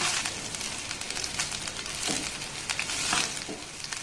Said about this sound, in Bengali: এবার এই ভাতটাকে কিন্তু এইভাবে একটু নাড়াচাড়া করে নেব প্রথমে